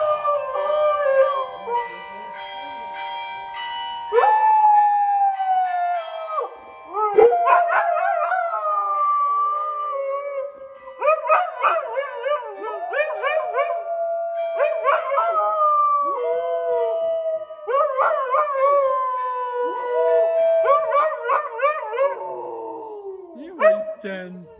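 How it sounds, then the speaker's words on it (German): Several dogs howl and bark together outside a hardware store in a small Spanish town near the Tabernas canyons, long wavering howls rising and falling with yips in between, close and loud, a person speaking over them. "Die Hunde warten draußen."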